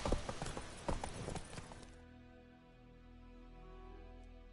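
Horse hooves clip-clop rapidly in the video game Witcher III, a dense, close run of hoofbeats that stops abruptly halfway, leaving a low, quiet ambient hum.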